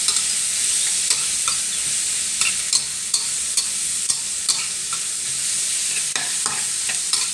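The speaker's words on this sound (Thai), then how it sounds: "ถั่วฝักยาวเริ่มสุกแบบนี้เราก็ใส่หอยลงไปเลยค่ะ พัดให้เข้ากันแล้วก็ปรุงรสชาติค่ะ" Mussels and long beans stir-fry in a hot pan for a Thai holy basil dish, a constant loud sizzle broken by regular sharp clacks and scrapes of the spatula tossing the mix.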